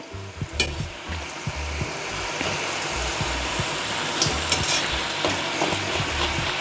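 Potato and chicken patties fry in hot oil at moderate heat, a steady loud sizzle and bubbling crackle with intermittent low knocks and stirring sounds throughout.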